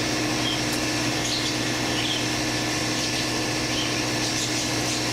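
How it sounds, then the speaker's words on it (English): An air compressor roars in a steady, unbroken drone indoors at moderate level, with faint bird chirps in the background and no talking. "What you hear right now is the roaring of my air compressor"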